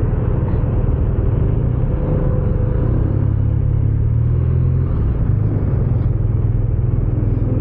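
A BMW R12 nineT motorcycle engine runs with a loud, steady low rumble and slight rises in revs, continuous and close, with no talking.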